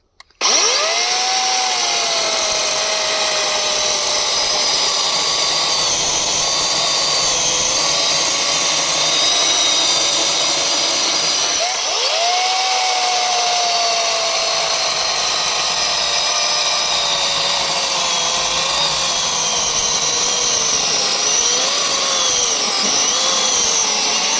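An AL-KO CS 4030 36V cordless chainsaw runs at a steady high whine while cutting frozen, freshly felled plum wood in minus-three weather, the pitch dipping briefly under load around the middle.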